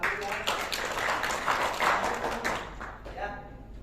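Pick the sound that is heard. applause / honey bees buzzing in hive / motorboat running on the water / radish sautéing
applause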